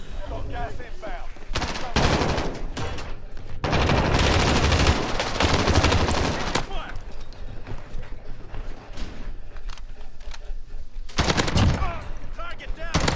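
Bursts of automatic gunfire from a Kilo rifle in a shooter game come in clustered volleys with quieter gaps, loud and close, with some shouted voices in between.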